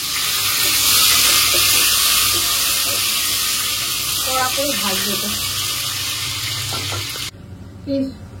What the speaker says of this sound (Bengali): আর এই যে মাংস এখানে কষানো হচ্ছে হাঁড়ির মধ্যে